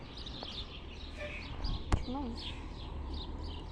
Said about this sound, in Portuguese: Mas tá bom, os passarinhos.